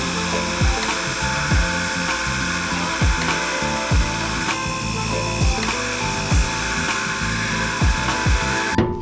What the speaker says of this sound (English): I just grabbed my Sawzall and cut out the middle of the bracing just enough for the heim joint to clear.